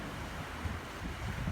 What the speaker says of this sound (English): the water's flowing everywhere. All the fresh water through the wall to the ocean.